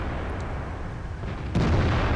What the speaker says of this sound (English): I see the artillery shell go in